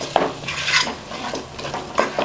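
A spoon scrapes and stirs through vegetables and masala in a pot for bisibelebath, in several close, uneven strokes with faint sizzling underneath.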